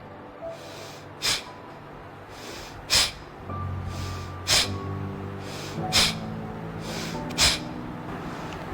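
Deep belly breathing exercise with a series of strong, forceful nasal exhalations in a slow, regular rhythm, roughly six sharp bursts spaced over several seconds, close and clear against a faint background hum.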